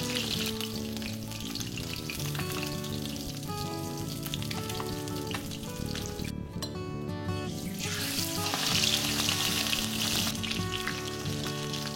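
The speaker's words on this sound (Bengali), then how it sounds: "এভাবে ভাগে ভাগে সব মাছের টুকরোগুলো ভেজে তুলে রাখবে" Rohu fish pieces fry in oil over medium heat in batches, a dense steady sizzle with fine crackles that plays beneath a continuous layer of background music, moderately loud and unbroken.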